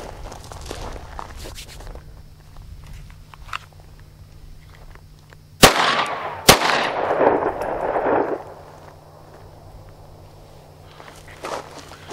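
Two handgun shots ring out at a target during concealed carry practice, a pair of sharp loud cracks about a second apart, each trailing off in echo, with quiet shuffling and footsteps before and after.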